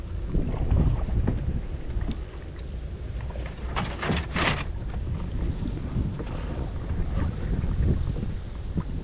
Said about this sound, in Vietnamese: Gió nó mát lắm nè